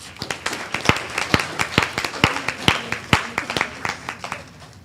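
Scattered hand clapping from a small audience at a school board meeting, honoring school support staff; sparse, uneven claps of moderate loudness continue throughout without a voice.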